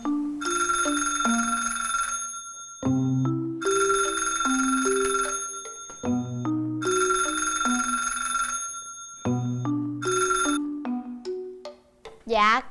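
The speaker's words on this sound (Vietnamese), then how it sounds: "Điện thoại kìa." A telephone ringtone plays a repeating melodic pattern of bright electronic notes in several close, loud bursts, in a Vietnamese comedy sketch set at a maid-service company office.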